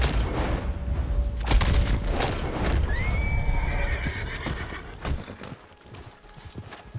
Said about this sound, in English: now we gotta wrangle the fucking horse